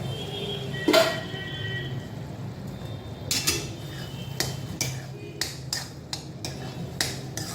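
Pongal being stirred and mixed in a pot with ghee over a reduced flame, a run of sharp utensil clicks and scrapes against the pot, louder early on and then repeating in quick bursts over a low steady hum.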